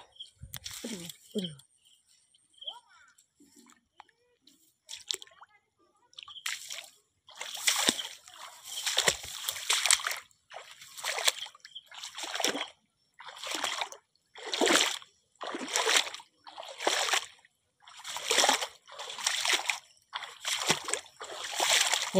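Someone wades through knee-deep floodwater on the way to cut a banana flower from a tree, each step a loud, close sloshing splash in a steady repeating rhythm, after a few quieter moments at the start.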